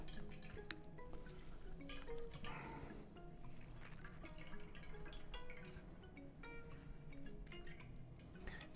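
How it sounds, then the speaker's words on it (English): Water drips and trickles quietly from salad ingredients being wrung out by hand for a chicken salad, with scattered soft drops and light splashing throughout, fairly faint and close. "just wring as much of the water out as you can. You'll see they're going to release a lot of water."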